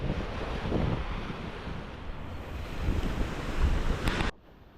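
Surf washing onto the shore at Playa del Carmen beach, a steady rolling roar of waves mixed with gusty wind buffeting the microphone, ending in a sudden drop.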